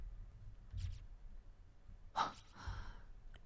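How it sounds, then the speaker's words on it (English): Character breathing in the horror game Corpse Party, a few faint, breathy inhales and exhales with a sharper gasp-like breath in the middle, quiet and close over low background hum. "She's breathing at least"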